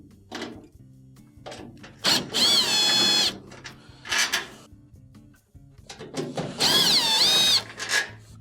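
A power drill backs two Phillips screws out of a GE dryer panel in two loud, sustained whirring bursts, with clicks, clunks and handling knocks of the metal cabinet between them and no talk.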